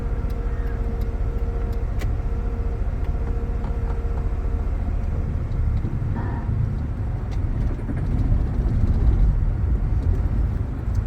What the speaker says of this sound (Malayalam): വണ്ടി ഇങ്ങനെ ജെർക്ക് ചെയ്യുന്നുണ്ടെങ്കിൽ അതിനർത്ഥം വണ്ടി ഓഫാകാൻ പോകുന്നെന്നാണ്